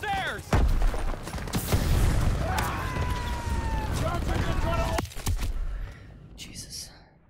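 Wartime gunfire in Call of Duty: WWII, a dense stretch of rifle and machine-gun bursts with heavy booms, sustained for about five seconds before cutting away to quieter battlefield noise.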